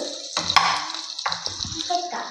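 Sliced ginger and garlic hit hot oil for fried rice, giving bursts of sizzling and stirring scrapes in a pan, close and irregular, with a voice briefly present.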